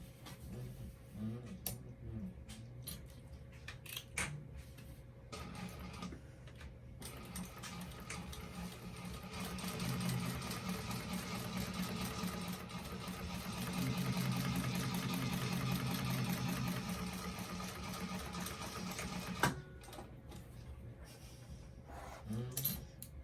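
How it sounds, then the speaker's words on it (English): Sewing machine running a steady 1/8-inch top stitch along a vinyl bag seam, a continuous mechanical whir with starts and stops, louder in the middle stretch, with no talking. "we want to do an 1/8 of an inch top stitch right along that seam there"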